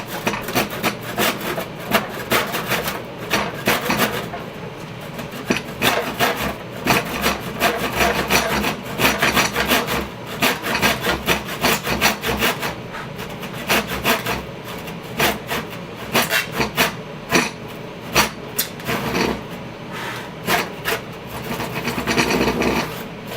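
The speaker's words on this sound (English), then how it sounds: "I'm going to finish this side, and I'm just going to finish it using a handsaw." A handsaw cuts a wooden cabinet toe kick in a steady rhythm of rasping back-and-forth strokes, close and continuous throughout.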